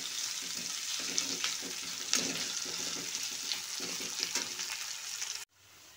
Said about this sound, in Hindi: मैं प्याज को डाल देती हूँ। मैं इसे अच्छी तरह मिला लेती हूँ।